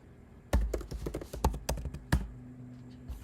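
Keystrokes tapped out on a computer keyboard while entering a terminal command on an Apple M1 machine, a quick irregular burst of close, crisp clicks followed by a quieter tail.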